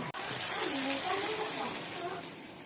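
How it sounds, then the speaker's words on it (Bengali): Water poured a little at a time into a pan of small mola fish frying for a spicy chorchori, giving a steady broadband rush and sizzle that runs nearly throughout, with a brief knock near the start. "আমি আর অল্প করে একটু করে পানি দিয়ে দিয়েছি।"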